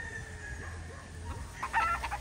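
A Sweater Kelso gamefowl rooster gives low clucks over a farm background, followed by a short burst of sharper, higher calls near the end, fairly faint and a little distant.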